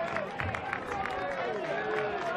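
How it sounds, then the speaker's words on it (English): Crowd at a 2017 NNSWF NPL semi-final football match in Australia, Edgeworth Eagles against Broadmeadow Magic, roaring at a near-miss shot from outside the box, a broad sustained swell under a commentator's talk. "Didn't the Magic crowd love that?"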